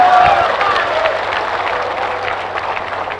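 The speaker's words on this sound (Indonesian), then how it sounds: "Kalian enak aja tepuk tangan" A crowd applauding at an Indonesian religious talk, giving a broad continuous roar of clapping that starts loud and gradually eases off, with a low steady hum running underneath and no speech.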